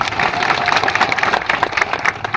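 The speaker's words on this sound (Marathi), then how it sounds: "एका जोरदार तुमच्या स्वतःसाठी टाळ्या वाजवा" A crowd applauds loudly and steadily, dense clapping filling the whole stretch.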